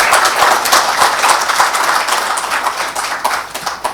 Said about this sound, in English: a big round of applause for our doctors over here